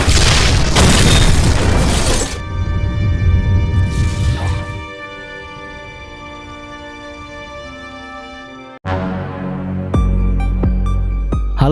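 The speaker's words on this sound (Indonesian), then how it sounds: "sesaat sebelum ledakan besar terjadi" A large bomb blows up a van in a film scene: a loud, deep booming blast with crackling debris up front, fading into a low rumble under tonal score music before a sharp musical hit.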